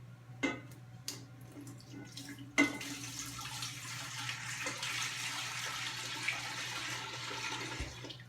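Eight cups of water poured quickly from a large Pyrex bowl into a jar, a steady rushing splash sustained for several seconds after a sharp onset, with a few light clinks before it.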